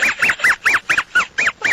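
A duck quacking loudly and close up, a rapid run of about eight nasal honking calls in quick succession, with no other sound.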